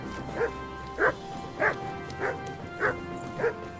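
A wild dog in Kingdom Come Deliverance 2 barks six times, short evenly spaced woofs about half a second apart, moderately close, over a steady low ambient game background.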